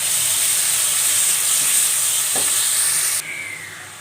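Tomatoes sautéing in a pan after garlic and ginger paste give off a steady, loud sizzling hiss that drops abruptly in level near the end, as if the heat or lid changes.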